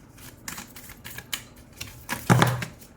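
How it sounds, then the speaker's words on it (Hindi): Tarot cards dropping out of a deck during shuffling, heard as a string of light papery taps and flicks with a denser flurry near the end, close by and with no talking. "बहुत सारी कार्ड्स गिरी है"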